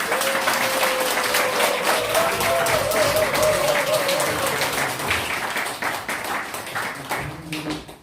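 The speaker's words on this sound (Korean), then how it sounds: "박수 부탁드립니다." Applause fills a seminar hall in Yeoju as a party leader is welcomed to the stage, sustained clapping from a large audience with a tonal sound in the background, fading slightly near the end.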